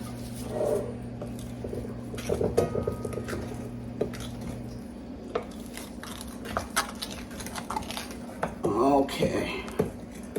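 A metal pound cake pan fetched and set down in a home kitchen, clattering and clinking in short bursts amid scraping and handling noise, with thick batter nearby and a low steady hum underneath.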